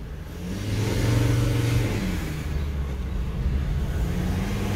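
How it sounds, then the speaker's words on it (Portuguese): A Ford Ranger 3.2 is driven at moderate speed to bed in new brake pads. Its mid-pitched engine rises and then holds under steady road rumble, close and fairly loud, and no one talks. "Estou andando aqui para dar aquele pré-assentamento."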